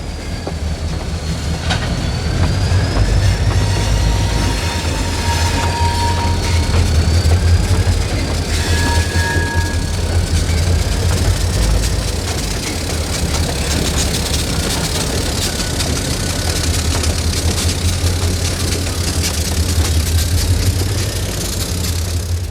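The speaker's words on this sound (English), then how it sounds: "The beginning of this morning's chase was in Canton, where train T31 is preparing its eastbound train." A Blue Ridge Southern train, T31, sits preparing for its eastbound run in the rail yard at Canton, giving off a steady low rumble with faint squeals and rail noise throughout, fairly loud and continuous, with no one speaking.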